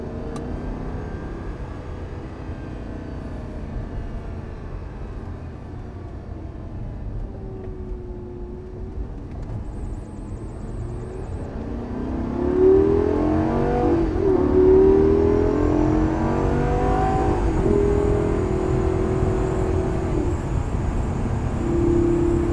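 Lamborghini Gallardo engine heard from inside while driving, a steady low drone that swells into rising and falling revs as it downshifts, loud and continuous throughout.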